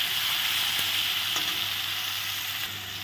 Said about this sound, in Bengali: একটু তেলে এখন ভেজে নেব